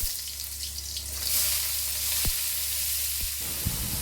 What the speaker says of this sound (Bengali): এবারে আগে থেকে বানিয়ে রাখা আলু ও মোচাগুলোই তেলের মধ্যে দিয়ে দেব।